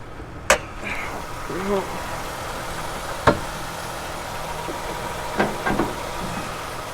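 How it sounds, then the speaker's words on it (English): A 2010 Toyota Highlander Limited's V6 idles with a steady, low hum throughout, broken by a few sharp clicks and knocks nearby, with brief faint voice-like sounds in the background. "Here's the engine bay with our Toyota V6 engine."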